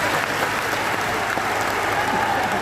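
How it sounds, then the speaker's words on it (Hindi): An audience at a large religious gathering led by Pandit Dhirendra Krishna Shastri in Banka claps in a loud, dense, sustained burst of applause, many hands at once without pause. "एक बार अपने लिए ही ताली बजा लो।"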